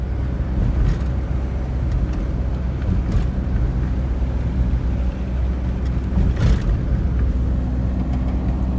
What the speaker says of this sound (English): This taxi will get us to the border.